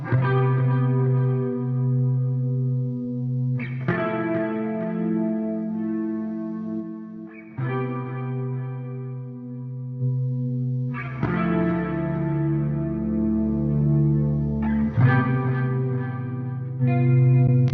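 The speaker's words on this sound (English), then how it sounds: "adding that compressor pedal, in my opinion, was super necessary to help make those chords ring out way longer and have a little bit better attack to them" Clean electric guitar chords played through a Neural DSP Soldano SLO 100 amp model with compressor and chorus pedals, each chord ringing out long with a washy shimmer, strummed in slow succession without talk.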